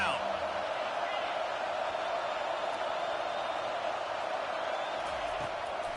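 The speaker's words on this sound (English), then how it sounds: "Decibels rising as the crowd gets behind this defense on third down." Stadium crowd at a football game on third down, a loud sustained roar of many voices filling the space and holding steady throughout, with faint whoops rising above the wash.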